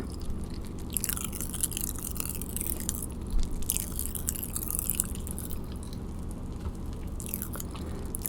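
Watermelon-flavoured Pop Rocks candy crackles and fizzes steadily in a mouth during chewing, heard very close up. A dense, wet, sparkling crackle continues without a break through the whole stretch.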